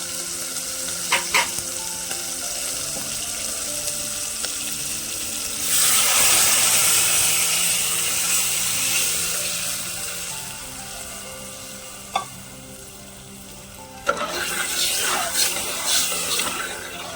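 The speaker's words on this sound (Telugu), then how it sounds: "చింతపండు యాడ్ చేస్తున్నా, పులుసు పోసేస్తున్నా." Tamarind extract is poured into tomatoes simmering in a pan: a steady sizzle, then a rushing, hissing surge as the liquid goes in, easing back to a bubbling simmer, with a few utensil knocks and no talking.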